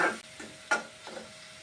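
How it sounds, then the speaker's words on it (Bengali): Spice paste fries in oil in a wok, a soft sizzle broken by two or three sharp scrapes of stirring, close and quiet with no voices. "আগে তেলের মধ্যে একটু ভেজে তারপরে কষায় নিব।"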